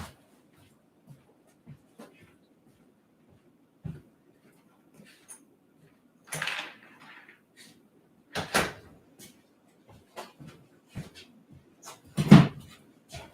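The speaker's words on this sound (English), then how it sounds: "I just have to unlock the front door." A front door being unlocked and opened indoors: a few sparse, close clicks and knocks of the lock and latch, then a louder thud and rattle as the door swings, with quiet pauses between and no talking.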